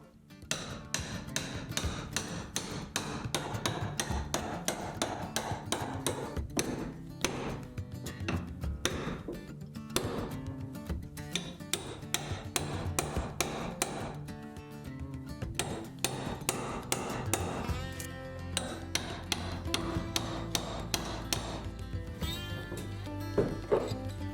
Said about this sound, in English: I'll be ripping out all those nails and taking out all that blocking.